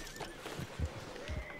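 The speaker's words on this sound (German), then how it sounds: "Pferde sind sehr aufgebracht." Agitated horses whinny on a farm in Red Dead Redemption 2, with faint, shrill neighs and low thumps in a quiet, distant-sounding scene.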